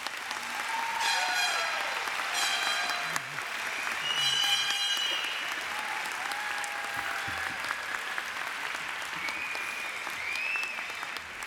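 At an elementary and early childhood department graduation ceremony, a large audience applauds with a continuous wash of clapping that stays even throughout, with faint voices and a tonal sound drifting in behind it.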